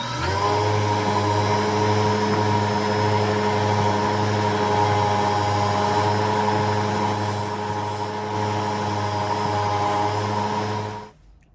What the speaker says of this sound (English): So I just quickly drilled that out to right about this depth right here